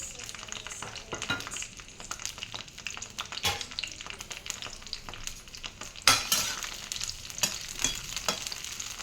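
Halved green chillies hit hot oil for a raw tomato pickle, giving a dense, steady crackling sizzle with a louder burst of spitting partway through, close and without voices.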